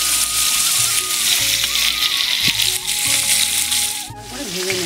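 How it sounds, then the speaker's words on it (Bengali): A large three-kilogram rupchanda fish frying in mustard oil during village-style cooking, a loud continuous sizzle with a faint voice or tonal hum running underneath. "মাছটা ভেজে নেবো। সরষের তেল দিলাম"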